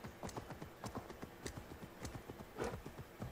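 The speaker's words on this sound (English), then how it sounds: "it sounds like a horse's hooves" Horse hooves clip-clop along a road in the video game Assassin's Creed Valhalla, a quick, even walking rhythm of distinct close hoofbeats with no other sounds over them.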